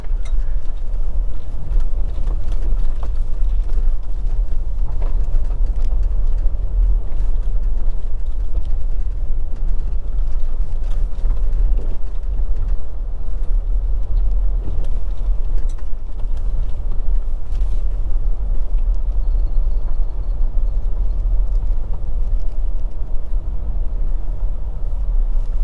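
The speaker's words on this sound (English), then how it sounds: "Very, very bumpy ride." A vehicle rolls along a rough, bumpy road on a Jamaica tour near Manchester, with steady low rumbling road and engine noise and scattered small knocks, continuing at an even level throughout without any talking.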